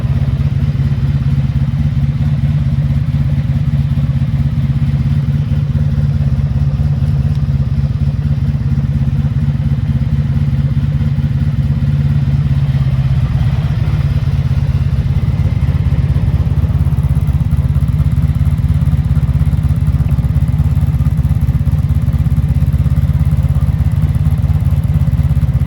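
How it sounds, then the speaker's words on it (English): A 1983 Honda Magna V45 VF750C V4 motorcycle idles steadily with a smooth low rumble and faint mechanical clatter, holding an even, unbroken drone at close range. "So as you can tell, it's a very smooth running bike"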